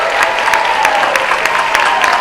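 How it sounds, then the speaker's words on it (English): An audience claps for contestants at a seniors' talent show in Chattanooga, with dense, even applause filling the room steadily throughout, no voices standing out. "Let's give them all one more round of applause."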